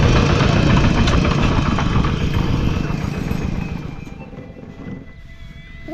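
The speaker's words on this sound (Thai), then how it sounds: "มีรถไถแถว" A tractor engine runs at a steady low chug with a continuous knocking rumble in a rural village in the early morning. It is loud and close at first, then slowly fades as it moves away.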